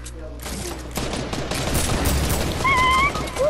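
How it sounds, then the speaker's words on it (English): Rapid bursts of video game gunfire crackle close and loud during a multiplayer match, dense overlapping shots rolling continuously with brief whistling tones near the end. "I'm getting shot at"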